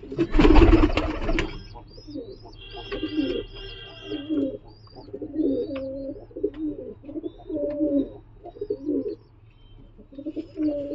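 Pigeons of a giribaz breed coo in a steady run of repeated low throaty calls, with a few higher chirps near the start and a brief louder burst of handling noise at the opening; no one speaks.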